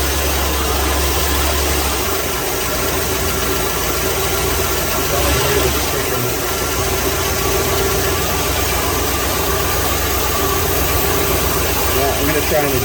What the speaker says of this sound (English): this thing is definitely idling too fast